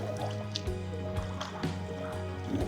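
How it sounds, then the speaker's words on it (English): Gentle water lapping and sloshing on Bodmin Moor with soft, irregular splashes and drips over a steady low background hum. "Lovely sound of lapping water."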